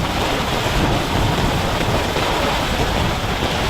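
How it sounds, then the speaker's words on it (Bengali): A dense, steady roar of heavy rain pouring down, loud and close, with no letup. "প্রচুর বৃষ্টি নামতেছে"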